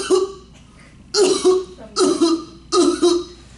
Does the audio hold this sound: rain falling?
no